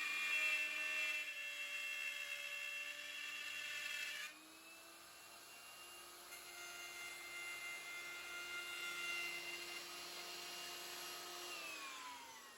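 A handheld router cutting a groove in wood, a steady high-pitched whine that holds continuously throughout, with the pitch dipping slightly partway as it bites into the cut, fairly faint and with no talking.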